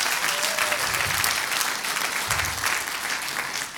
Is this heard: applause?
yes